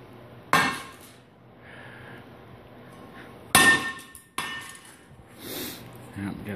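Brick striking the handle of a Li'Jo utility shovel, two sharp loud knocks a few seconds apart with smaller clatters and rustling between them, close by.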